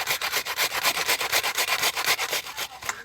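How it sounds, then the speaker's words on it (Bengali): Carrots grated by hand on a grater, a steady run of rhythmic rasping strokes, close and fairly loud, about a dozen even scrapes with no talking. "গাজরটাকে আমি গ্রেট করেই রসটা বের করব"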